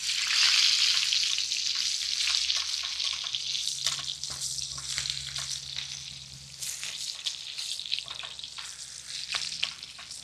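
A ribeye steak frying in a glass dish, with a steady, loud sizzle and crackle that holds through the whole stretch and flickers with small pops, no talking over it.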